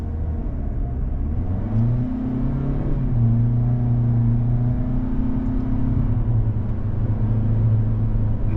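A 2024 Toyota Corolla Cross XLE AWD pulls away from a stop. Its engine hum rises and settles through gear changes under a steady low road rumble, heard from inside the cabin with no talking.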